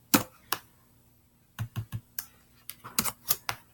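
Scattered keystrokes on a computer keyboard, close and fairly quiet, coming in short irregular clusters with pauses between.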